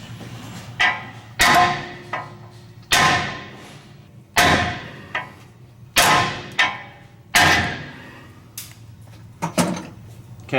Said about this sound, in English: we're going to nail it with a hammer until it comes free